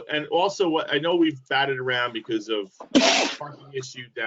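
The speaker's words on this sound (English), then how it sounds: "bless you, if somebody sneezed" A single sharp sneeze bursts out in a meeting room during a budget session, loud and brief, cutting across continuous talk from a speaker.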